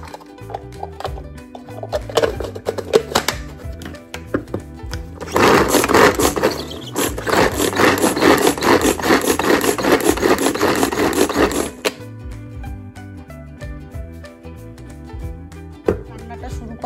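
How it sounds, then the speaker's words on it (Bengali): Garlic and two fresh green chilies being chopped in a push-button hand chopper: short rattling bursts of blades and pieces scraping inside the plastic bowl, then a long stretch of rapid repeated rasping chops, close and fairly loud, stopping abruptly. "তখন আমি এই গার্লিক আর মানে রসুন আর এই 2টো কাঁচা লঙ্কা আমি চপ করে নেব।"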